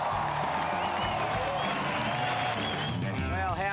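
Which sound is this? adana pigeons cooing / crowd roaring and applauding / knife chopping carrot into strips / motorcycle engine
crowd roaring and applauding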